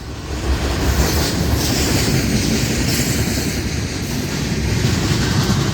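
A Florida East Coast manifest freight train passes close by with a loud, continuous rumble of rolling cars, steady clatter of wheels on track and hints of wheel squeal.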